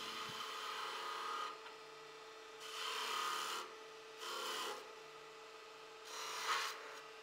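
Wood turning on a lathe as a skew chisel cuts a honey dipper, giving a close, steady hiss and rasp that swells in several separate passes over a constant motor hum.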